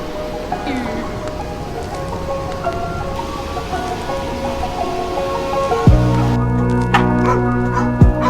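A dog named Paddy barks repeatedly by a river, the barks echoing, under a busy outdoor background with a louder sharp bark near the end.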